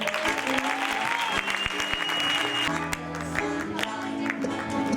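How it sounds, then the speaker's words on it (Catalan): Steady applause from an audience after a students' glosa performance at an Onze de Setembre school event, dense clapping throughout with a few voices mixed in. "Escolteu l'aplaudiment."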